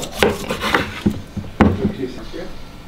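A knife trims white fat off a deer heart, giving scattered close scraping and rubbing strokes with a few sharp knocks against a cutting surface, while a voice talks quietly underneath.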